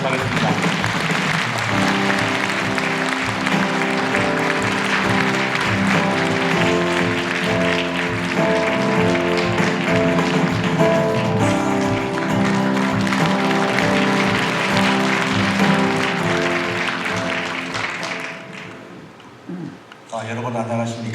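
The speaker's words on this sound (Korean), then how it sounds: "이명수 의원님 나오실 때 여러분 따뜻한 박수로 환영해 주시면 감사하겠습니다." An audience applauds to welcome a lawmaker to the podium at a Chungcheong-region unification event opening ceremony, a dense sustained clapping wash over a music bed that thins out near the end.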